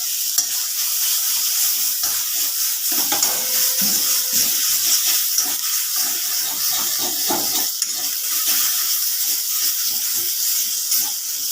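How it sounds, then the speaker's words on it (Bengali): Ground ginger and green chilli fry in hot oil with a pinch of turmeric, a close steady sizzle broken by frequent spoon scrapes as the mix is stirred. "ওর মধ্যে সামান্য 1 চিমটে মতো হলুদ দিয়ে একটুকু বেটে রাখা আদা ও কাঁচা লঙ্কাটা আমি ভেজে নেব ভালোভাবে।"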